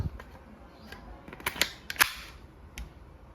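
Several sharp, quiet pops from an Umarex T4E Walther PPQ M2 .43 caliber rubber ball pistol firing, spaced irregularly among faint handling clicks.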